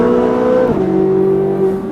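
A Corvette engine revs close and loud, its tone climbing and then dropping into a steady high idle, with no talk.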